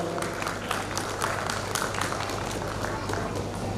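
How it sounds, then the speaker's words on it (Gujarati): A crowd at a Mewada Suthar community felicitation gathering claps loudly, brisk scattered hand claps forming a lively burst of applause, with a voice faintly underneath. "જોરદાર તાળીઓ."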